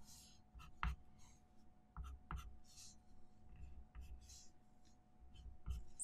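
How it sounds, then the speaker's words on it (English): A white pencil dragged across paper for a kingfisher drawing, making soft, continuous scratchy strokes with a few sharper taps, close and quiet with no talk. "for areas that you want lighter, you can use more pressure on the white pencil"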